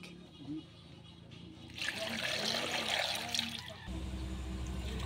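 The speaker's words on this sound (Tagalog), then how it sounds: "Ngayon guys, lagyan natin ng tubig." Water is poured into a pot of cassava pieces for boiling, a soft gush and trickle that swells for a couple of seconds and then settles, faint and close, with brief talk at the start.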